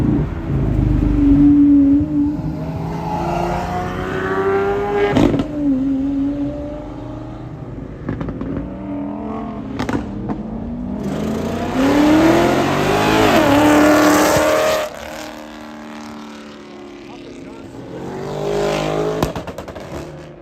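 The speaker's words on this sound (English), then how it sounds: "very nasty 12-cylinder Aventador coming up, stifled by the traffic" A Lamborghini Aventador V12 engine revs and accelerates repeatedly in traffic, rising in pitch through gear changes, with bursts of loud throttle and passing traffic noise, fairly close.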